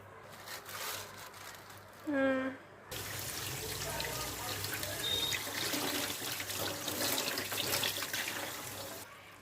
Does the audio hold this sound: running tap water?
yes